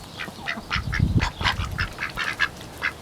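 Several ducks quack in a rapid, overlapping series of nasal calls, close and fairly loud, heard in an outdoor garden setting in early morning.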